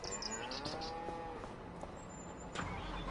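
In Farming Simulator 25, cattle on a farm give a low, drawn-out moo at moderate distance, set against a steady outdoor hum and a few soft knocks.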